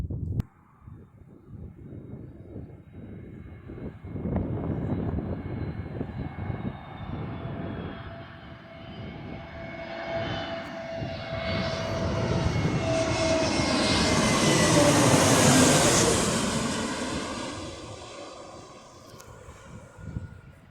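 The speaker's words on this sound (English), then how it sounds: "Sounds like a 777," Boeing 777 jet airliner, likely fitted with General Electric engines, passing overhead: a broad engine roar that swells steadily to a loud peak around fifteen seconds with a sweeping high-pitched whine, then fades as it recedes, no talk.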